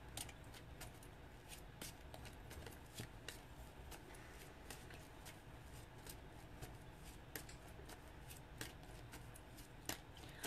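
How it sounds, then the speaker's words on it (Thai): A tarot deck being shuffled at close range, a steady papery riffle with repeated sharp card snaps throughout, no voices. "เดี๋ยวสับไพ่ก่อน"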